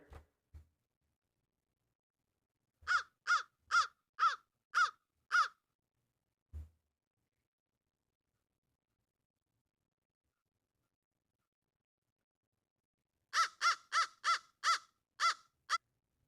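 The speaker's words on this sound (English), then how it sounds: "is it an American crow? Yes, it is." American crow cawing in two bursts of about six harsh, evenly spaced calls, clear and fairly close, separated by a long stretch of silence.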